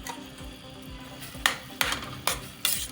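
Okra stirred into a pot of boiling soup with onion, a spoon scraping and knocking the pot four times over a steady bubbling simmer, no talk.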